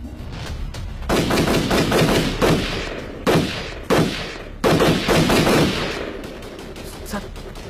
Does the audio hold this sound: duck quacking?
no